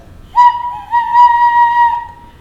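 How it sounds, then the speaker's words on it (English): A recorder blown with too little air gives a thin, breathy tone that wavers in pitch for about two seconds, played close and alone. "If you are using too little air, it'll sound like this."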